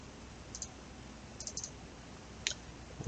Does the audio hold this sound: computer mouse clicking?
yes